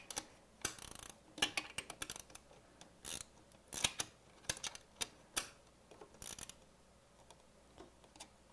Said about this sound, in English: Got to get it far enough so that the nylock is biting before the ratchet will do anything for me.